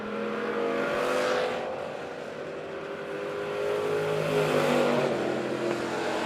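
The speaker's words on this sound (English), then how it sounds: "That's a beautiful car as it comes off of turn number 4." A B-Mod or Midwest Mod dirt track race car comes off turn four at Monett Motor Speedway, its engine roaring loud and near with rising and falling pitch as it passes, with no one talking.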